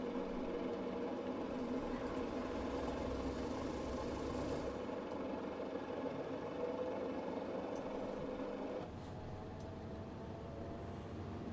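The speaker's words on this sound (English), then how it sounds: "Engine starts." Boeing Stratoliner piston engine starts and idles in Microsoft Flight Simulator, a dense steady rumble throughout that shifts to a slightly lower, steadier drone partway through, with no voices.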